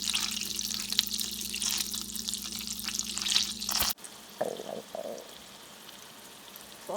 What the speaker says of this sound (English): Place butter in a frying pan.